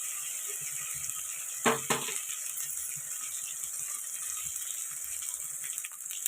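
Ginger garlic paste frying in a pan for Andhra coconut rice, a steady soft sizzle running throughout with a couple of brief clinks of a spoon or utensil near the middle.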